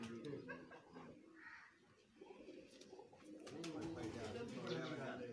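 Soft cooing of homing pigeons close by, mixed with low murmuring voices and background chatter.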